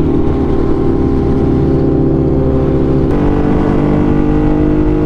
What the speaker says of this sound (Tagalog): Dito guys sa high speed, sobrang smooth tong bike.